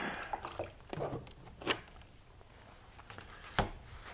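Water rinses across an etching plate after a spit bite, making soft splashing and dripping with a couple of sharper wet splats, all fairly quiet and close.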